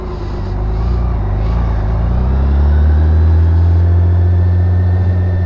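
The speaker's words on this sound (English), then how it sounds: "we got a lot of traffic coming out of here today" Traffic pulling out onto a road while riding a BMW K1600B motorcycle: a steady, loud engine drone that swells and builds over a few seconds as the vehicle accelerates, with no talk.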